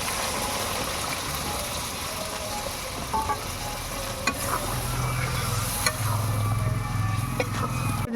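Meat curry being cooked down for biryani sizzles in a pan as a little water is added, giving a steady close hiss with a few clinks and scrapes.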